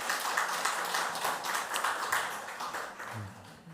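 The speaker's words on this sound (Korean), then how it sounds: "박수해 주시기 바랍니다" A church congregation gives soft, distant applause for a choir after a cantata. The clapping is an even patter that fades slightly toward the end.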